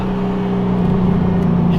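A V8 LS-swapped Mazda RX-7 FD drives under steady throttle, a continuous low engine drone with a strong harmonic hum that builds slightly as it pulls, loud and close from start to finish.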